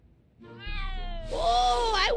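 A cat in the Back to the Future adventure video game lets out a drawn-out, rising meow that swells into a louder, wavering yowl, heard up close and alone.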